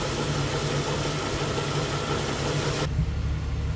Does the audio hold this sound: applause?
no